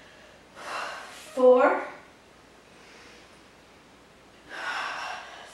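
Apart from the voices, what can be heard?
big exhales during a core workout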